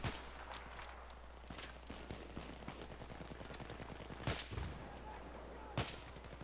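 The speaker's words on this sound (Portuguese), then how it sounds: "Como que eu errei esses dois tiros?" Sharp gunshots from Battlefield 3 team deathmatch crack out in scattered bursts over a constant low background hum, a few louder single shots standing out.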